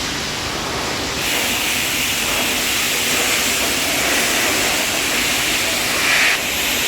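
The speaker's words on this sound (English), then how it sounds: "Okay, here we are in the Basel, Switzerland train station." Steady broadband rumble and hiss of a busy Basel, Switzerland train station platform, with a TGV Lyria train nearby, continuous and fairly loud throughout with a slight swell near the end; no speech.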